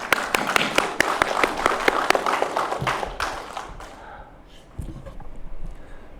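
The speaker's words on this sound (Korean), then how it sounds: "격려하는 의미에서 큰 박수 한번 부탁드립니다" Audience at a Gwangju history concert and forum bursts into dense, loud applause that fills the hall, then thins and fades after about three seconds, leaving scattered claps and room noise.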